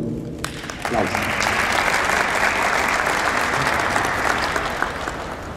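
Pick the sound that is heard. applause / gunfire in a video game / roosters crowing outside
applause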